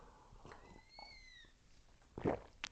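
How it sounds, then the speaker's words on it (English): A cat meows indoors, a short high mewing cry rising and falling, heard faintly at moderate distance amid quiet room noise and a louder thump near the end. "Who just meowed like that?"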